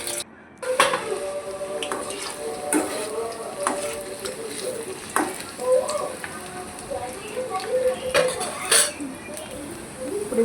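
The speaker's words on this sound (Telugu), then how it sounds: "ఆయిల్ వేసుకొని వాటిని మంచి బ్రౌన్ కలర్ వచ్చేంత వరకు వేయించుకోవాలి" French fries deep frying in hot oil in a kadai, a steady close crackling sizzle with bursts of bubbling and occasional clinks of a utensil against the pan.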